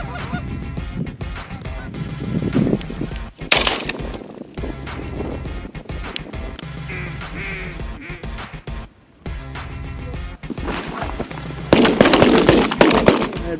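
Loud shotgun blasts ring out on an opening-day duck hunt in North Dakota, with sharp reports standing out over constant nearby honking of waterfowl and a dense burst of shots near the end.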